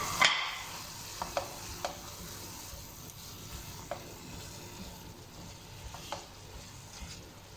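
Minced chicken fries and roasts in a pan over a medium flame, a soft steady sizzle with occasional scraping stir clicks, close and quiet with no talking.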